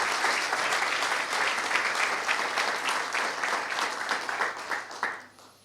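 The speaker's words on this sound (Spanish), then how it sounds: "Denle un aplauso al Señor." A church congregation applauds at a Sunday service, a dense, steady wash of many hands clapping together that tapers off at the end, with no voices over it.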